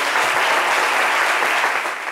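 Studio audience of a French-language midday television talk show applauding, a dense, steady wash of clapping that is loud and close throughout, tapering slightly at the end.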